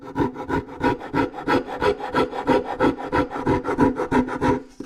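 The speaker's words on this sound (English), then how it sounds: "You can use also the rasp. I use a lot the rasp." A wood rasp files the upper button area of a violin in steady, rhythmic back-and-forth strokes, about three per second. The gritty rubbing is close and loud, with no speech.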